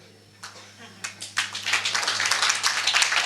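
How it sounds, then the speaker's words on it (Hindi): Jain monks clap during a religious discourse, first a few scattered claps and then a dense, steadily building round of applause nearby, with speech heard beneath it. "महाराजों ने तालियां बजाई"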